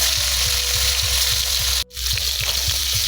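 Fish pieces frying in hot mustard oil in a pan on a gas stove, a steady dense sizzle with crackling pops close up, briefly cut off for a moment before resuming.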